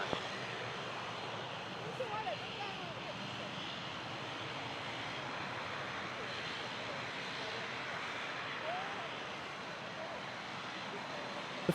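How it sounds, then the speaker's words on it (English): A Dash 8 turboprop airliner arrives at Toronto Pearson airport (YYZ), its engine drone a steady, broad roar that holds evenly throughout, with faint voices over it. "The first Dash 8 I saw today."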